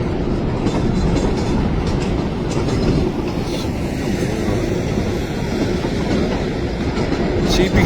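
A CPKC freight train hauled by an SD-42 type locomotive rolls past close by, a continuous loud roar with rumbling wheels and clickety-clack on the rails throughout.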